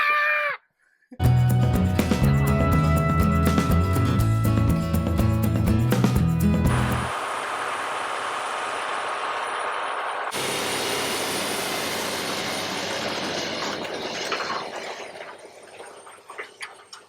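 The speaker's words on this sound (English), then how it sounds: "the big tractor is going to work right now" A big tractor works a field being prepared for sprigging. Its engine drones loud and close with a heavy low rumble, then eases into a lighter, steady broadband roar that fades toward the end.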